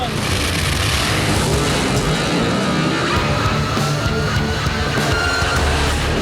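Kenny's Camaro and a Corvette drag racing down the strip at Texas Motorplex, loud continuous engine roar with broadband crowd and track noise throughout, a commentator talking over it.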